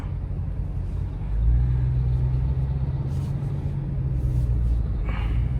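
A Dodge Charger Hellcat cruising on a busy highway, with a steady, loud low engine and road rumble that swells slightly partway through, heard from inside the car.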